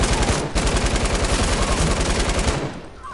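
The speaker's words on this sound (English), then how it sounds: "somebody's shooting it" Rapid automatic gunfire in Call of Duty Black Ops 3, a dense loud burst of repeated shots running almost continuously, with a brief gap early on before it fades out near the end.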